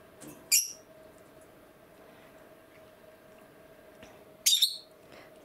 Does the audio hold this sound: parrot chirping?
yes